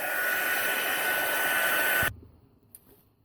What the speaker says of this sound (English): I'm going to zap it with my heat tool first